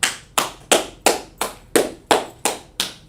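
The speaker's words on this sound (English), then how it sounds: "So let's clap it up" A class claps in unison, nine crisp, evenly spaced group claps in a steady rhythm, each ringing briefly in the room.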